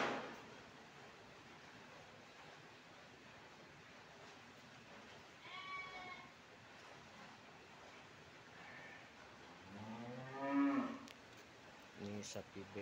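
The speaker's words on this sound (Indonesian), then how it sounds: "Ini sapi-sapi FH" Friesian Holstein cattle at a cattle slaughterhouse pen in Cikarang, giving a few faint, distant moos over a steady low background hum, with the clearest low drawn-out call near the end.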